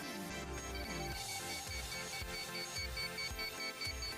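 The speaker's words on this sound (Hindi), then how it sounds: "वो ट्रांसमीटर मेरा ऑफ था, इसके लिए बीप कर रहा था" An FPV drone's ESC, flashed with BLHeli firmware, beeps repeatedly in regular tones because its transmitter is switched off. The beeps sound close and continuous with no talk.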